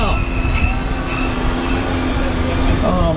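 The Universal Studios Hollywood studio tour tram rolls along with a loud, steady rumble and faint wheel squeal, a low constant drone filling the whole stretch, with speech faintly mixed in.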